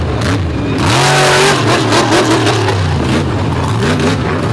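A racing truck engine at a Lake Erie all-star marathon event revs hard and loud, rising and falling through repeated strained climbs with gear changes, close and continuous with no talk.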